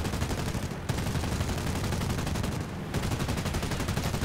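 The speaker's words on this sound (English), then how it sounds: "We do have 2 20mm MG 151 cannons." Twin 20mm MG 151 cannons on an I.A.R. 81-C fighter in War Thunder fire in long, rapid sustained bursts, loud and close, with two brief pauses between strings of shots.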